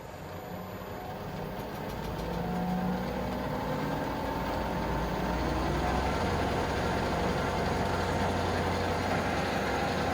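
A VFD-driven Colchester lathe runs in bottom gear at its lowest speed, a steady low mechanical hum and drone that holds continuously and evenly throughout, close by, with no talking over it.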